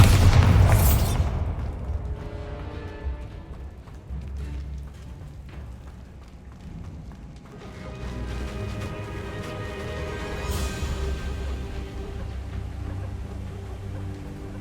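A Bombarda blasting spell goes off in Hogwarts Legacy: a loud, close boom bursts at the start and rumbles away, then gives way to layered game ambience and music. No one speaks.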